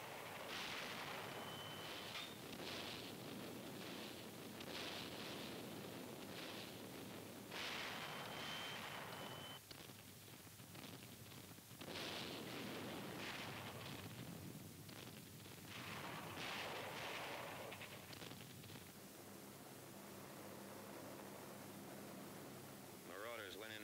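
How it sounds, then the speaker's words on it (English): Naval artillery bombardment on D-Day over Normandy comes through as a continuous dull roar and rumble of distant shelling. It is faint and noisy, with old film hiss and irregular swells throughout. "The naval bombardment continues."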